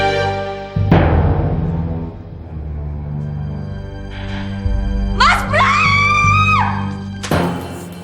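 A woman in an Indonesian TV drama screams, with a sharp rising cry near the middle followed by a wavering wail, set among bursts of background noise and thumps.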